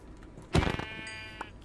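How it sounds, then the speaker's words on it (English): A sheep in the Minecraft video game gives a single short bleat, loud and close, followed by quieter game ambience and a faint later blip. "Sheep, I'm so sorry, but I do need to kill you, because I need to survive this night."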